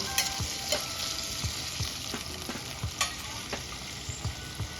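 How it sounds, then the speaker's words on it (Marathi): Garlic cloves and ginger sauté in hot oil in a pan, a steady close sizzle broken by regular scraping stir strokes. "आता हे सर्व साहित्य आपल्याला नॉर्मल सॉफ्ट होईपर्यंत परतून घ्यायचं आहे"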